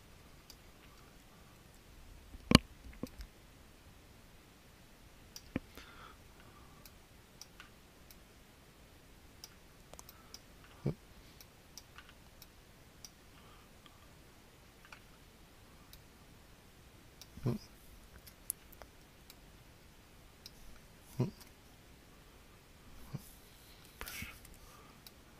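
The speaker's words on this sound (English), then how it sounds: "I'm hitting X on my keyboard to toggle between the black and the white." Computer keyboard key presses during Photoshop work on a composite portrait: sparse, faint single clicks spaced a few seconds apart over a quiet room background.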